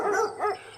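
Neighbour's dog gives two quick barks in succession, fairly close and clear, a short sharp double yap with nothing else around it.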